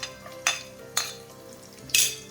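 Chopped garlic goes into hot coconut oil for a Kerala red cow pea thoran, giving three short, bright bursts of sizzle and spatula stirring over a quiet, steady kitchen background.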